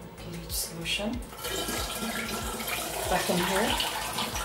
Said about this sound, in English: So let's pour the bleach solution